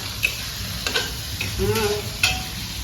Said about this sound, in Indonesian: Kita panggangnya tak gorengi